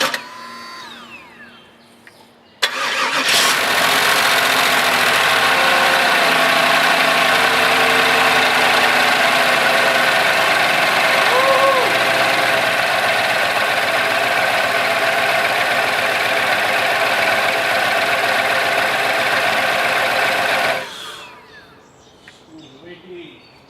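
A 1996 SS car with a new engine fires up on its first start and settles into a steady, loud idle that runs close for about eighteen seconds before cutting off, with a brief whine rising midway.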